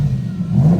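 A 2009 Spyker C8 Laviolette supercar engine revs up briefly, a loud, close, steady low growl with rising intensity and no talk over it.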